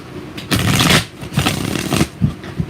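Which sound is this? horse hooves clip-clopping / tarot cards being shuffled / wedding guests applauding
tarot cards being shuffled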